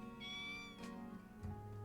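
A cat in The Sims video game gives a short, clear meow followed by a second brief mew, heard alone in quiet game audio.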